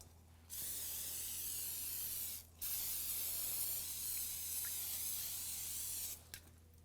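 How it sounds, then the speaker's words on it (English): Two bursts of cooking spray hiss close by, a short one followed by a longer steady spray, with a faint tap just after. "coat it with a light coating of our cooking spray"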